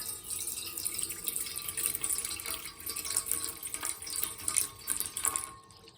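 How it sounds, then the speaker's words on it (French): Water runs steadily into the tray of a Lidl active-ventilation barbecue, a close, continuous splashing pour lasting several seconds before cutting off at the end, with no voices. "Il faut remplir l'eau jusque maxi."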